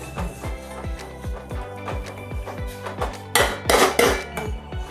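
Semolina mixture for papad is stirred in a metal pot, making a steady rhythmic series of ringing clanks as the spoon strikes the pot, with a louder scraping burst near the end.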